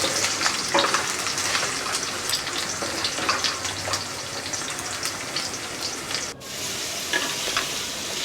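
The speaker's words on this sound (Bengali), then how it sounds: "আলুগুলো আমি লাল লাল করে ভেজে দেব।" Potatoes frying in oil until reddish for a vegetarian okra and potato curry, a steady close crackling sizzle with occasional stirring scrapes, briefly cutting out near the end before resuming.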